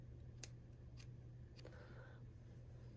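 Scissors snip the yarn end of a small knitted charm, a few quiet, crisp cuts close by over a low steady hum.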